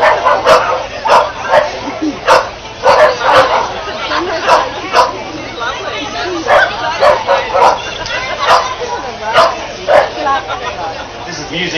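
Dogs bark and yip repeatedly at an RSPCA Million Paws charity dog walk in Brisbane, short sharp barks scattered through a noisy crowd with people talking.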